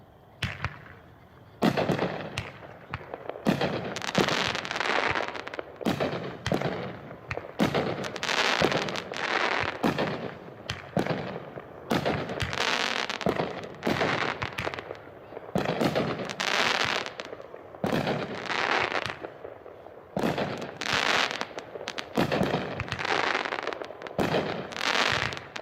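An Under Fire 16-shot, 350-gram consumer fireworks cake going off at a demo, a long run of loud bursts and crackling reports firing in quick rhythmic succession, heard from a moderate distance.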